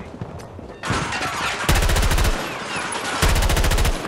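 Rapid automatic gunfire in Battlefield 2042, loud and close, coming in sustained bursts with short pauses between them and a dense, continuous rattle throughout.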